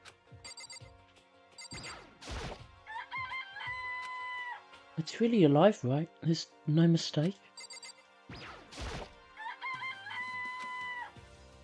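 A chicken in Danganronpa: Trigger Happy Havoc gives a warbling, electronic-sounding crow and clucks in the middle, with game chimes and a person talking before and after.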